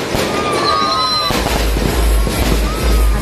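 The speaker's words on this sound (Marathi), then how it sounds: "रॅलीमध्ये बघा फटाके कसे वाजवले." Firecrackers bursting during an outdoor Ambedkar Jayanti rally, a dense crackling and popping chain with whistling streaks, loud and fairly near amid crowd noise and voices.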